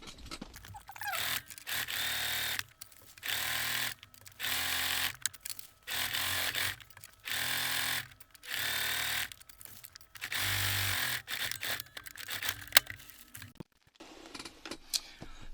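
A sewing machine stitches grey lining for a baguette bag in short repeated runs of about a second each, whirring bursts separated by brief pauses, close and fairly loud, ending with light handling noises.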